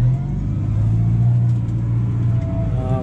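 A tractor engine drones steadily at an even pace with cruise control engaged during field cultivation for maize, a continuous low rumble that holds throughout.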